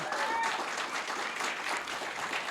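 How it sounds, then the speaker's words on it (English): Applause rises from the crowd at the announcement of a $1 million small business relief fund from the San Manuel tribe. Steady, moderately loud clapping rolls on for a couple of seconds with faint voices mixed in. "I think that deserves another round of applause."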